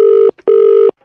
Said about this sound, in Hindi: किसी का फोन आ रहा है मेरे को